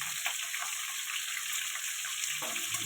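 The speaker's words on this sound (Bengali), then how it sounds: "এবার পটলগুলো ভেজে নেব। তার জন্য পটলগুলো দিয়ে দিলাম।" Faint, steady sizzle of pointed gourd (potol) pieces frying in oil in a pan with salt, a soft continuous crackle with a brief stirring clatter near the end.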